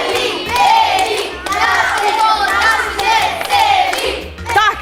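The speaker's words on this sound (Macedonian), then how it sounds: "да чуеме белиот тим како навива" A school's white team of children chants and cheers in unison, loud rhythmic group shouting close by with short pauses between phrases and a steady low beat beneath.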